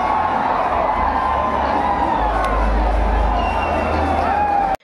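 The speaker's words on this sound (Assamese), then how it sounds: "গেলাৰীৰ পৰা ভাহি আহিল সমৰ্থকৰ উল্লাস" Stadium crowd roaring and cheering from the galleries for local player Riyan Parag walking out at an IPL cricket match in Barsapara, Guwahati, Rajasthan Royals versus Punjab Kings; a dense, steady wall of sustained noise that cuts off at the end.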